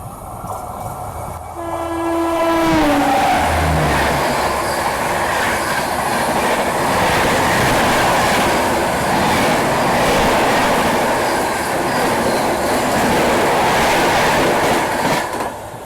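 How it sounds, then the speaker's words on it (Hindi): Tejas Express train overtaking on a parallel track, starting with a long blaring horn that slides down in pitch, then a steady loud roar of wheels and carriages rushing close alongside. "चलिए फाइनली तेजस ने हमें ओवरटेक कर लिया, बिल्कुल पैरेलल में ओवरटेक किया।"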